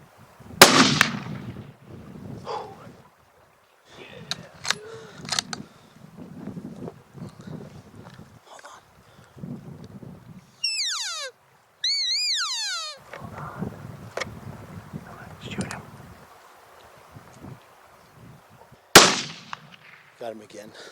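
A hunting rifle fires at a bull elk outdoors, two sharp loud cracks several seconds apart, amid quiet talk and rustling, with wind or call-like whistles in between.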